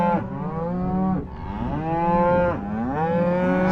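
A dry cow on a cattle farm moos in long, loud, close drawn-out calls, three bellows in a row with brief breaks between them and no talking.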